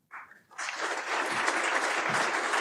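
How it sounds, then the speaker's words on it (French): An audience at a real-estate awards ceremony breaks into dense, sustained applause after a brief opening burst, many hands clapping close and loud for a couple of seconds with no talk over it. "On applaudit."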